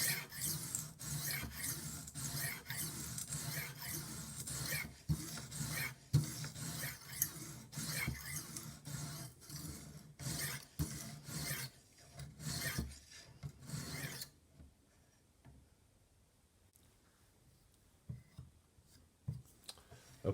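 A fillet knife is drawn over a TSPROF sharpener stone in repeated rasping strokes at close range, each scrape short and rhythmic, before the strokes thin out and stop near the end.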